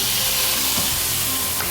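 Diced onions sizzle in a hot pan, a steady broad hiss with faint crackles throughout.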